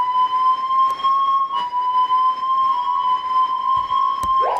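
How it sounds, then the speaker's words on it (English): Synthesizer siren preset with steady sustained tones, loud and continuous, a few faint clicks breaking through near the end. "And then we have our siren"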